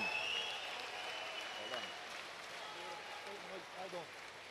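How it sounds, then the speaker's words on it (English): Steady applause from a large crowd at a cage fighting event fills the space, with an announcer's voice speaking over the clapping. "Folks, keep the applause going there."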